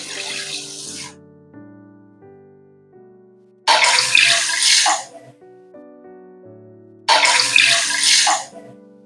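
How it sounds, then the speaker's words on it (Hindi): Water pours into a kadai holding lentils in three separate splashing bursts, each lasting about a second, with soft background music filling the gaps between pours. "3 कप पानी डालेंगे।"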